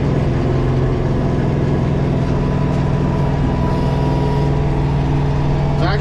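A wheeled snowblower's front blower engine runs loud and steady with dense low harmonic drone, a continuous engine roar throughout with a slight rise near the end.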